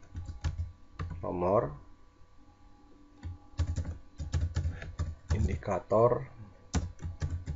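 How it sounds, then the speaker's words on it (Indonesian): Keys clatter on a computer keyboard in short bursts of rapid taps with pauses between, close and fairly crisp, while someone speaks over parts of the typing. "Misalkan di sini saya ketikkan"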